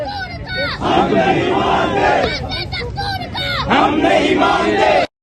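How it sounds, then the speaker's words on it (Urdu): A crowd of children chants slogans in loud, sustained unison at a PTI political rally in Lahore, voices rising and falling in rhythmic waves before cutting off abruptly. "اس ٹائم آپ دیکھ سکتے ہیں چھوٹے چھوٹے جو بچے ہیں وہ نعرے لگوا رہے ہیں"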